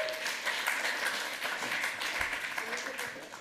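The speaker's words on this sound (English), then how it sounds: "Give him a round of applause." Audience applause after a lightning talk at a hacker conference, a continuous burst of clapping from a crowd that holds steady throughout.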